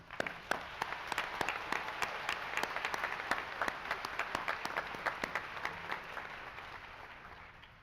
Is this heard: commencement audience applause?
yes